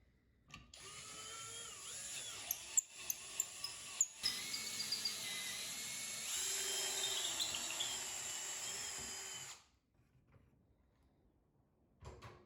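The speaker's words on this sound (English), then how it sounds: "Clamp it down in place and drill the hole." A power drill boring a pocket hole through wood held in a Kreg-style pocket hole jig set to 1.5 inches, with a steady whine for about nine seconds, a few sharp clicks as the bit starts, and a brief tap afterward.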